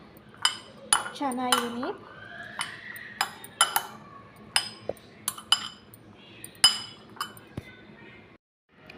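Metal utensils clink against a bowl while chickpea salad is mixed, scattered sharp taps in irregular bursts, with someone speaking briefly over them.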